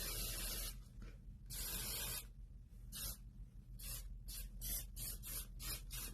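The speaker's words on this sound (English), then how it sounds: "and then spraying" Hairspray hisses in repeated short and long aerosol bursts, close and fairly quiet, with no talking.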